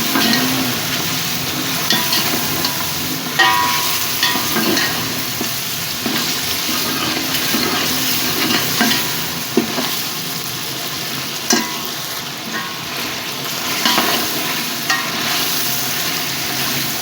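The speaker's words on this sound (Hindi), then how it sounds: "चिकन और मसाले भून चुके हैं अच्छी तरह" Continuous sizzling as chicken and spices fry in a pot for pulao, with occasional stirring clinks and scrapes, fairly loud and close, no talking.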